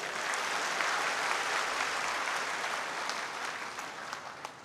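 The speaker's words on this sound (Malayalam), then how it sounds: "കേരളത്തിൽ നമുക്ക് ഈ വലിയ വിജയം സമ്മാനിച്ച എല്ലാവർക്കും വേണ്ടി ഉച്ചത്തിലൊരു കയ്യടി കൊടുത്ത്" Loud, dense applause from a large political rally audience in Kerala, sustained evenly from start to finish with no voices over it.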